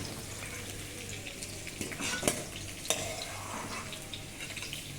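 Onions fry in a kadai for kadai paneer, making a steady, close sizzle broken by occasional sharp clinks and scrapes of a stirring spoon against the metal pan.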